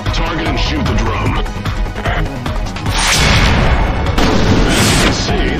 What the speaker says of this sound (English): As you can see, those red drums are highly explosive.